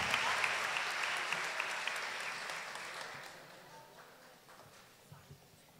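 Audience applause at a charity solidarity concert, welcoming school principals onto the stage; dense clapping starts loud and steadily fades over several seconds, thinning to scattered claps by the end.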